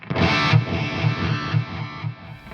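An electric guitar plays with a delay effect, the notes repeating in fading echoes at a steady pulse.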